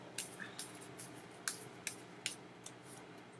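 Soft, crisp flicks and riffles of tarot cards being shuffled, a quick irregular series of light taps, quiet and close.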